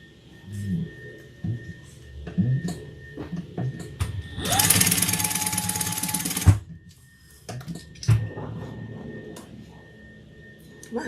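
An electric sewing machine stitches a fabric bag gusset in one continuous whirring run of about two seconds, close and loud, with quiet handling and speech before and after.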